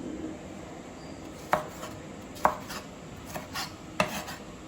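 Knife cutting heirloom tomatoes on a cutting board: four distinct, fairly soft chops spaced about a second apart, with a few lighter taps in between, against a quiet room with no talking.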